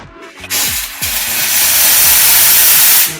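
Steam from the wand of a 1990s Pasquini Livia espresso machine bursts out after a few clicks, then hisses loudly and steadily before cutting off at the end.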